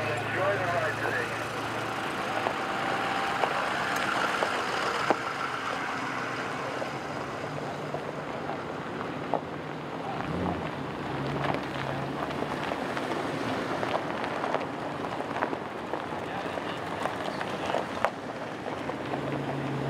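An off-road vehicle drives along the gas line road toward Tyson Wash at Quartzfest, its engine rumbling steadily throughout with wind buffeting the microphone and a voice talking over it.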